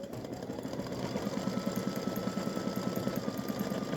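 An embroidery machine stitches a pickleball design, its needle hammering in a fast, even rhythm, close and steady with no talk.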